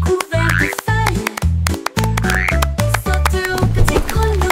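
Cartoonish frog croaks in a French children's song about a little jumping frog, several bouncy croaking calls set over a rhythmic musical backing, loud and close.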